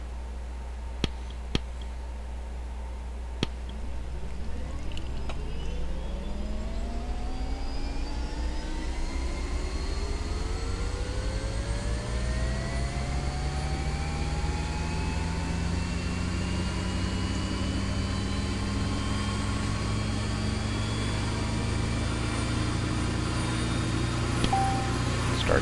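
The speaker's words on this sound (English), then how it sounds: "Get the engine started and head for Atlanta." A Bell 429 helicopter's turbine engine spools up in X-Plane 11, a few clicks giving way to a steady rising whine that climbs in pitch and settles into a loud, continuous drone with no talk.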